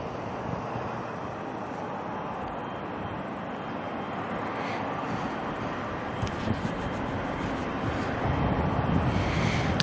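An Air New Zealand A320 airliner lines up for takeoff at Auckland Airport, its engines a steady, broadband roar heard from a distance, slowly swelling toward the end, with wind buffeting the microphone.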